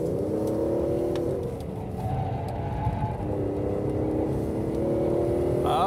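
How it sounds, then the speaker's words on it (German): An Aston Martin DB11 in Sport Plus mode accelerating hard on a track lap, its engine note rising through the gears with shifts between, heard steadily from inside the car. "Jetzt geben wir mal Gas."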